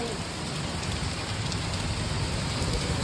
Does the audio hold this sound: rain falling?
yes